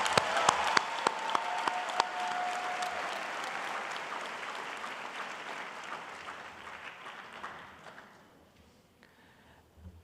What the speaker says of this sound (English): Let's have a round of applause for the MA graduates.